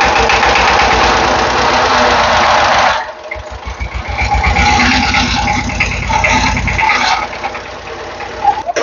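A Changchai diesel engine runs loudly nearby, with a rough chugging rumble that drops briefly around the middle and then returns as a steady throbbing idle.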